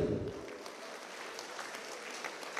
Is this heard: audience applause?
yes